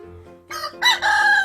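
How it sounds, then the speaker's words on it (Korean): A rooster crows loudly and close by, a single drawn-out call rising in strained bursts, with quiet farmyard sounds underneath. "넘버 투 수탉 꼬꼬입니다."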